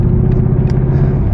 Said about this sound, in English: So this is a 430 crate motor.